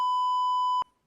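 A single pure censor beep tone holds steadily for nearly a second and then cuts off sharply with a click, followed by near silence.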